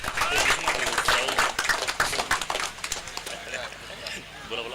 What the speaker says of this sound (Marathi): एकदा टाळ्या होत्या विशालसाठी